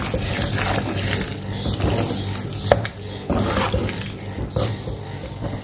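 Mutton kaleji masala stirred in a pan, a close, wet scraping and sizzling with a sharp clank partway through, no talking.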